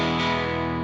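Overdriven electric guitar through a Fender Deluxe Reverb amp into a Matchless 2x12 cabinet, a single loud, sustained distorted chord ringing steadily for under a second.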